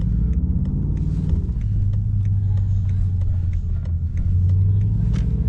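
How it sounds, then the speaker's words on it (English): A BMW pulls up with a loud, steady, close engine rumble that swells slightly as it rolls in outdoors, with wind noise around it. "Listen to that Terpsky pull up"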